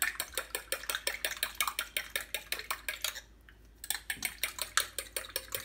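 Egg and milk are beaten together in a bowl, a utensil striking the bowl in rapid, rhythmic clinking strokes that pause briefly midway before resuming, close and fairly quiet, with no talk.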